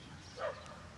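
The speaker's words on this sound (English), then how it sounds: "There's a doggy over there barking." A single dog bark rings out far off near an urban pond, faint and brief against steady outdoor background noise.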